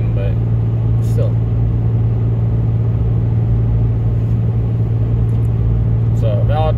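A 6.7 Cummins diesel truck hauling a 25,000-pound gross load drones with a steady low engine hum, continuous and unchanging from inside the cab.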